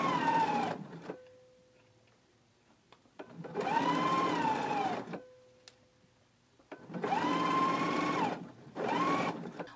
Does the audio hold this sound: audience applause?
no